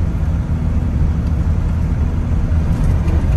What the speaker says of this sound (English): I'm just trying to keep the truck moving without getting stuck.